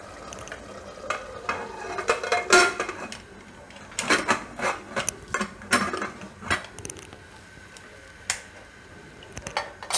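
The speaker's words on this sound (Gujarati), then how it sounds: "હવે આપણે કુકરનું ઢાંકણું બંધ કરી દઈશું" Close metallic clinks and clacks come in short irregular bursts as a pressure cooker lid is fitted and twisted shut.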